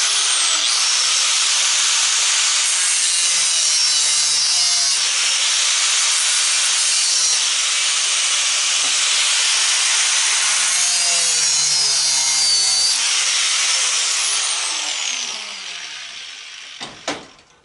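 Brass is cut off propane regulators with a cutting disc tool: a loud, continuous, harsh abrasive hiss and whine heard close up without pause, fading out in the final seconds with a couple of small clanks.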